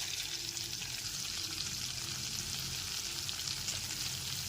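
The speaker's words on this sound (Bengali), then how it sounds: "টমেটো বাটাটাও মশলার সাথে খুব ভালো মতো কষিয়ে নিতে হবে" Tomato paste stir-fried with spices in a pan for a vegetarian chhana dalna, giving a steady close sizzle and soft frying crackle throughout, with faint scraping of stirring and no talk.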